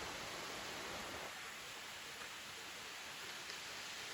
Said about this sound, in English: First little waterfall of the trip. That is Harvey Falls.